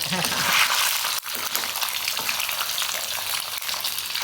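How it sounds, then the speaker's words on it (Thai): Pork belly marinated in curry paste deep-frying in hot oil, a steady loud sizzle and crackle with spitting oil throughout, close up, with a voice speaking over it. "ยายก็ทอดแบบนี้เลย"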